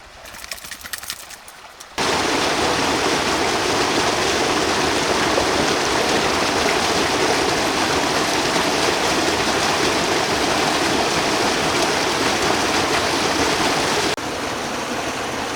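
Creek water flows in a dense, continuous rushing hiss with rapid crackling texture, loud and close, after a couple of seconds of quieter rustling; the flow then drops slightly in level near the end.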